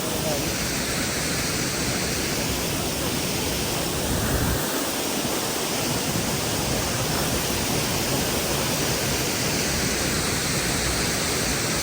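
Dense, unbroken roar of a waterfall close by, loud and constant for the whole stretch with no pauses, drowning out everything else.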